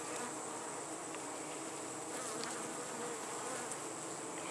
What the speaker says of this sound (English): I noticed a lot of bee activity in the crepe myrtle on the flowers.